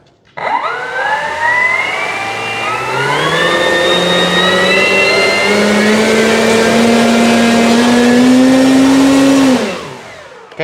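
E-flite Carbon-Z T-28 RC plane with a three-blade prop runs its electric motor up to full throttle, a loud rising whine that holds steady and climbs in pitch for about nine seconds, then cuts off sharply.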